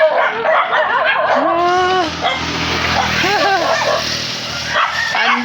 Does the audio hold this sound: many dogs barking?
yes